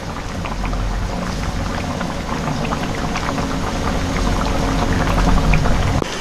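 Thai red curry with eggplant simmers and bubbles steadily in a pan, a dense crackling, fizzing wash with no talk.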